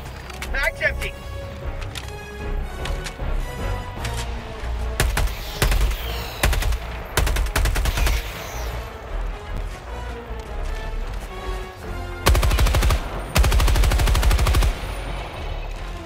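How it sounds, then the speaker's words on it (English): Bursts of machine-gun fire in Helldivers 2 crackle loudly in short volleys and longer sustained strings, with heavy blasts and voices talking over the action between bursts. "I need my machine gun."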